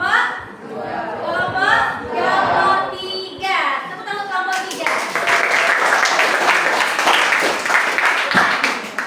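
Classroom applause for a student group, a burst of clapping and cheering from many children that follows a teacher's spoken prompt and continues steadily to the end.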